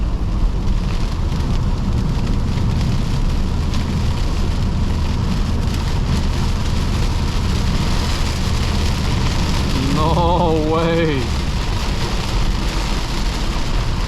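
Steady, heavy rain roars throughout with a constant low rumble of a BMW E46 320i driving, and a voice briefly exclaims near the end.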